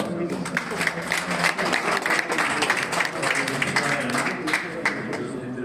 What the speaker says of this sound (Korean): 교수님께 진심으로 감사의 박수를 드립니다